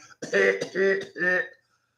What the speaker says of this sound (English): it could be the weed cough